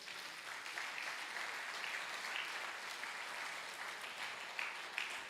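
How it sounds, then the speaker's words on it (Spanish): A church congregation applauding, a steady dense wash of many hands clapping together throughout, moderately distant with no talking over it. "Denle un fuerte aplauso al Señor."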